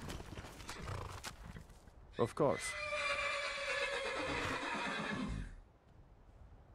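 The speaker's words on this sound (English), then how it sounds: "Only thing better than riding a swift horse." A horse in the video game Skyrim gives a loud, shrill whinny with hoofbeat clip-clops around it, while a voice speaks briefly near the start.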